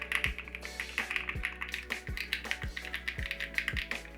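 Typing on a custom mechanical keyboard such as a GMK67 or Nucky 65, a steady run of crisp, close key clacks with sharp thocky bottom-outs roughly every third of a second, heard alone.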